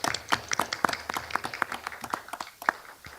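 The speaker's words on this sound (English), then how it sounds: "they need a round of applause for everything that they do" Scattered applause at a city council regular meeting, a modest round of individual claps with uneven rhythm, fairly close and sparse rather than a full ovation, with no talking over it.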